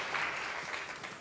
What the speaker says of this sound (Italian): per cui chiedo un altro applauso